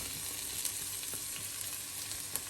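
Garlic and green chilies sautéing in hot oil give a steady close sizzle with small crackles and pops scattered throughout, with no voices over it.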